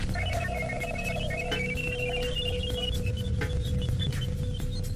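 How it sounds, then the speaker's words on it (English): Radio emissions from the planet Jupiter rendered as sound, a constant static hiss carrying thin whistling tones that rise and fall steadily for several seconds, with no voices. "Most of it sounds like static, but every once in a while you pick up something that sounds like a rising tone"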